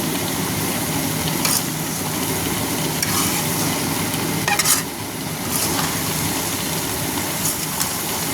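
Grated coconut mixture stirred gently in a frying pan makes a continuous close sizzle with periodic soft scraping strokes, over a low background hum.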